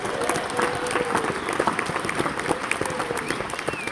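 A crowd at a community garden gathering applauds its volunteers, with dense, sustained clapping and a few cheers filling the room at steady loudness.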